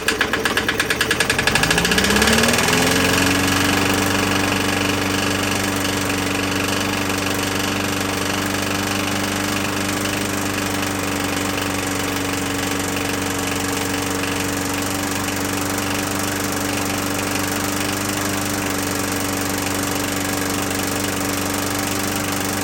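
A worn 21-inch Murray push mower engine in really bad shape with blow-by fires up and runs rough, a steady close, loud, uneven putter with knocking, holding on alone for over twenty seconds.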